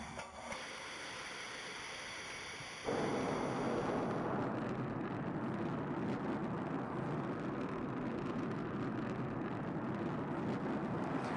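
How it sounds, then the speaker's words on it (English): A rocket lifts off and hovers on its main engine. Its sound swells abruptly into a sustained, broad, roaring rumble that holds steady and loud for several seconds. "You've never seen this before, a rocket blasting off"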